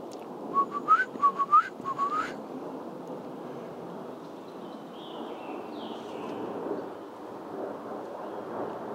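A series of short rising whistles sounds in a quiet forest, six or so quick calls in the first couple of seconds, followed by steady low ambient rumble and a distant passing plane.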